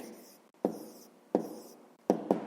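Close, scratchy strokes of writing out a math equation during a fifth-grade math lesson, with sharp taps landing at uneven intervals and no speech.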